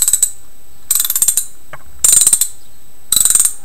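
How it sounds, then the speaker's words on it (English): A ratchet wrench used for tightening or loosening bolts clicks in four quick bursts of rapid, crisp ratcheting, loud and close, with short pauses between them. "So, listen to this nice noise."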